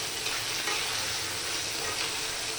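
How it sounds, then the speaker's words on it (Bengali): Spices sauté in a pan with tomato sauce and white and black pepper, producing a dense, even sizzle that stays close and constant throughout, with no speech. "এগুলি দিয়ে কিছুক্ষণ ভালো করে কষাতে হবে।"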